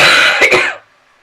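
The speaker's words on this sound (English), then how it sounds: "because of this cough" A single close, loud cough burst with a harsh throaty rasp, ending abruptly and followed by near silence.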